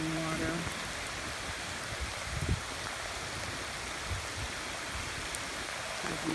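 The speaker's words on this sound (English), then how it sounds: "the rain is not letting up" Steady rain falls on a flooded residential street standing about a foot deep in Denham Springs, Louisiana, a soft even hiss with faint scattered splashes and no talking.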